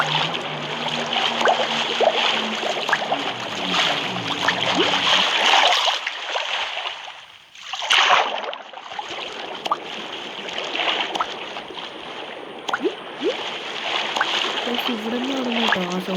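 Water splashes and swirls as a player swims in Minecraft, a sustained watery wash with a brief dip midway and a burst of splashing, heard alongside a talking voice.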